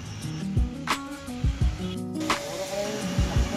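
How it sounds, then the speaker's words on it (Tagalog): Vacuum cleaner sucking leftover glass debris out of a 2024 Isuzu MU-X LS door shell after a door glass replacement, a steady whine broken by repeated clattering knocks and rattles as bits are pulled up the nozzle. "ngayon bino-vacuum niya na yung mga natirang debris dun sa loob ng door shell"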